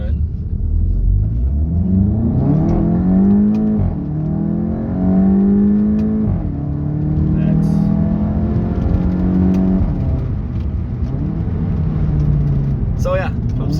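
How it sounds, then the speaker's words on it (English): A Volkswagen Golf 7.5 GTI engine revs steadily through a U-turn, a loud continuous drone that rises and falls in pitch in several swells across the stretch, with a voice talking over it. "So you do a U-turn."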